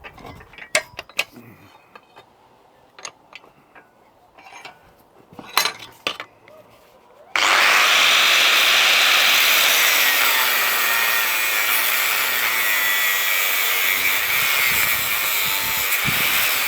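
A metal tractor linkage arm is cut to length in a fabrication workshop, with a few scattered clanks and handling knocks first, then a loud, steady grinding cut that runs on without a break.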